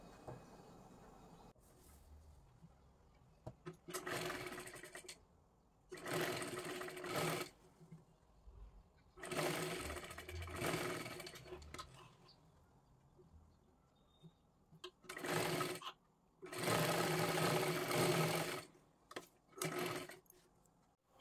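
An electric sewing machine stitches a blouse in repeated loud whirring runs of a few seconds each, broken by quiet pauses as the fabric is repositioned.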